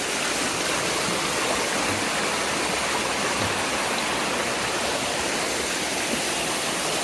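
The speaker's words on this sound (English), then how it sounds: "The stream that feeds it." A forest stream feeding the Whitewater River on a foothills hiking trail rushes continuously and loud, a dense, unbroken wash of flowing water with no voices.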